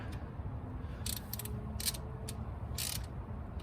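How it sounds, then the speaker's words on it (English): Nuts being snugged down onto a carburetor base plate on a 1969 Camaro, with short clicking ratchet bursts repeating at irregular intervals over a steady low background hum. "what Tinker's doing now is he is just snugging up the nuts to the base plate."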